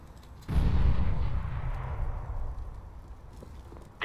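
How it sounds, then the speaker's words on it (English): A grenade explodes in Counter-Strike on the Overpass map, a single loud, close blast with a deep rumbling boom that fades out over a few seconds, and nobody is talking. "Throwing a grenade."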